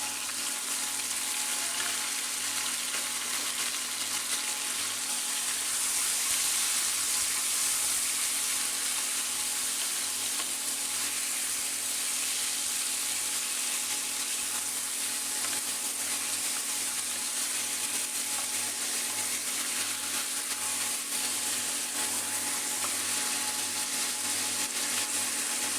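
Chicken frying in a pan for chicken estofado, a steady, continuous hiss of sizzling oil holding at an even level throughout, with no talk.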